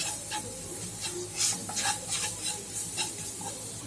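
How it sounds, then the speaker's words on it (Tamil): Masala powders for Chettinad plantain fry stirred through hot oil in a pan, a steady close sizzle broken by repeated scraping strokes of a spoon, with no voices. "மசாலாலாம் நல்லா இந்த எண்ணெயில் மிக்ஸ் பண்ணியாச்சுங்க"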